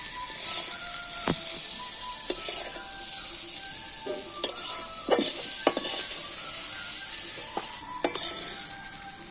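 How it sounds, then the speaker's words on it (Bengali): Garlic fries in hot oil in a pan, giving a bright, continuous close sizzle, with occasional metallic clinks and scrapes of a utensil against the pan. "দেখো রসুনগুলো ভাজা হয়ে গেল।"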